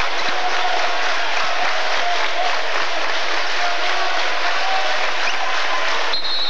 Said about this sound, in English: Once again, the Clum crowd really getting into it.